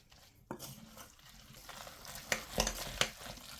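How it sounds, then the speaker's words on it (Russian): A spoon stirs a grated cheese and zucchini mixture with spices in a bowl, giving soft wet squelching and scraping, quiet and close, with a few sharper clicks against the bowl near the end. "Все тщательно перемешиваем."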